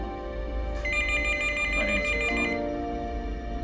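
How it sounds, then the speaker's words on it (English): A telephone rings with a bright electronic warble lasting a couple of seconds, near and fairly loud over a low steady hum, then cuts off. "But at that instant, the phone rang."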